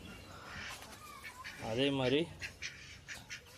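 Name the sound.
ducks and guinea fowl on a farm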